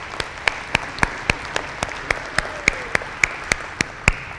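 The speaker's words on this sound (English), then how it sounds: "Can we have a round of applause?" An audience gives a round of applause for a bishop at a keynote gathering, a steady crowd wash of clapping punctuated by regular sharp individual claps, heard at moderate distance with no talking.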